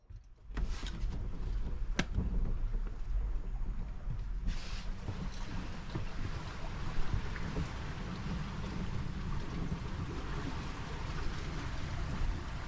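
Steady wind and water rush aboard a sailboat on a broad reach in a 15-knot breeze on the bay near Annapolis, a continuous broadband wash with a few brief knocks early on and no talking.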